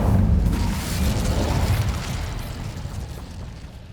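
Incendio fire spell cast in Hogwarts Legacy, a roaring burst of flame that swells loud and low at once, then slowly thins into a sustained crackling rush over several seconds.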